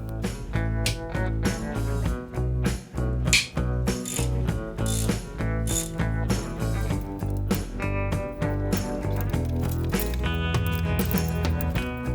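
A ratchet clicks steadily while removing Allen and hex screws from the gearbox of an Aston Martin DB7 with a 5.9 V12, making loud, continuous, close mechanical ratcheting over a dense background.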